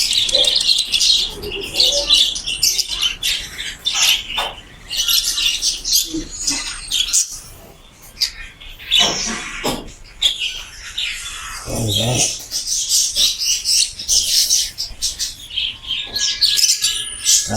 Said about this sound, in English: See these birds? They come from Australia.